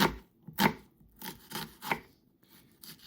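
An onion is chopped on a board with a knife in a kitchen, making short, irregular crisp chops in small bursts, close and moderately quiet, with brief pauses between strokes.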